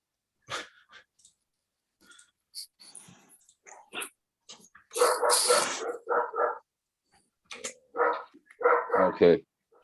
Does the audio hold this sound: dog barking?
yes